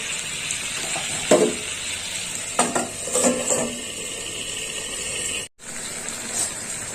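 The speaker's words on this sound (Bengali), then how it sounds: "আর একটু নেড়ে কেটে দেবো তরকারিটাকে" Potato and eggplant curry stirred in a pan: a soft steady sizzle with scattered scrapes and clinks of a spoon against the pan, then a brief cut-out before the sizzle resumes.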